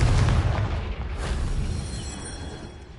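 A Confringo explosion spell goes off in the Hogwarts Legacy video game: a loud, deep boom at the start that fades into a rumbling tail over a few seconds, with no talk.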